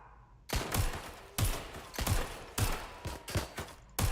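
Video game gunfire crackles in repeated loud bursts of rapid shots, about six volleys with brief gaps, close and dominant with no talk.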